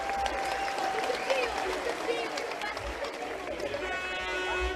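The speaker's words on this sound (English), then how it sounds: "So a round of applause for Keith, Michelle and Mike." Crowd applause for Keith, Michelle and Mike at a Galway GAA club gathering after the Monivea Abbey v Kilconly intermediate football final, steady clapping mixed with chatter and voices nearby.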